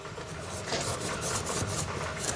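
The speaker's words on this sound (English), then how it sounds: "And now I'm just taking a scuff pad" A scuff pad rubs back and forth over the painted engine compartment of a 1972 VW Super Beetle, a close dry rasping in short repeated strokes.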